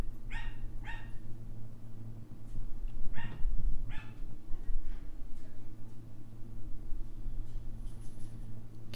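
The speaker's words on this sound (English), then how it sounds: "there goes my dogs. Having a bit of a cathartic little barking spell." Dogs bark in short repeated bursts, two quick barks, then a louder pair, then fainter ones further on, over a steady low hum and with no speech.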